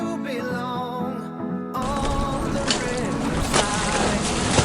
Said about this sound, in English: We're getting on another boat.